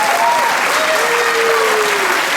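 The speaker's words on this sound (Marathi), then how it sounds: "तर जोरदार या आपल्या मुलींसाठी जोरदार टाळ्या होऊन जायच्या" Steady, dense applause from a crowd after a music performance by girls at a Tulsi Vivah wedding celebration, continuous and fairly loud, with a faint voice or tone drifting through.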